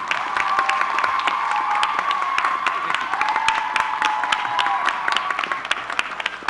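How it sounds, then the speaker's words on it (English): A warm round of applause from the crowd at a Dr. Martin Luther King Jr. commemorative vigil in Arkansas, with steady clapping, scattered cheers and whoops, and a sustained tone running beneath the crowd noise. "Let's give a warm round of applause for the Executive Director of the Arkansas Dr. Martin Luther King Jr. Commission, Mr. Deshaun Scarbrough."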